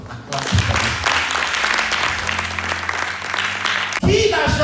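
A church congregation breaks into loud, sustained applause and cheering, a dense continuous roar that fills the room for about four seconds before cutting off, followed by a brief burst of voices.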